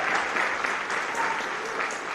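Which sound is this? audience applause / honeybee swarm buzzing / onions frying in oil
audience applause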